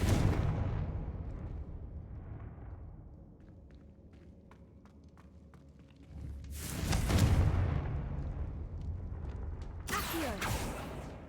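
Confringo spell blasts in a game, two loud bursts with a crackling rumble, the second about three seconds after the first, over a low hum and faint mechanical clicks.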